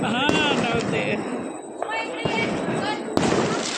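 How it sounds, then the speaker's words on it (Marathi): Diwali firecrackers going off in several sharp separate pops spread over a few seconds, mixed with ongoing nearby voices and crackling in the background. "आपल्या काळात नव्हते ना हे फटाके."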